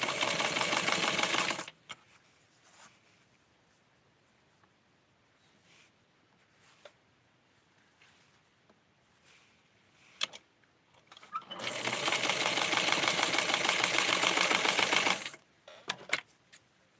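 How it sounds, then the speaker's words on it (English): A sewing machine stitches the flap of a small doll pattern piece, running in a steady loud burst, pausing through quiet handling noises, then running again for a few seconds before stopping. "I am going to sew the"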